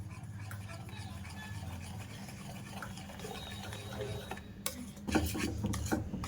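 A batter of sago and egg with baking powder and a little baking soda being stirred in a bowl, making close steady rasping scrapes with a few sharper knocks near the end and no talking.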